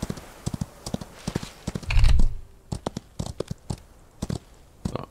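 Horse hooves clip-clop in the Old West video game Outlaws of the Old West, a steady run of light, irregular clops with a brief low rumble partway through.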